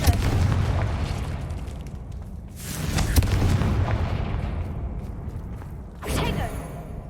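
Confringo fire spell blasts in the Hogwarts Legacy video game: deep, booming bursts over a steady rumble of game ambience, one heavy blast near the middle and a sharper one toward the end.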